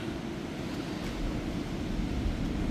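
Strong wind roars across the top deck of a cruise ship at sea in the Mediterranean, a dense, steady rush with heavy low buffeting on the microphone.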